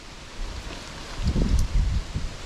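Tree limbs toss and rustle in gusty wind during Hurricane Ian, a soft whooshing rustle that swells into louder bursts midway, with low wind rumble against the microphone.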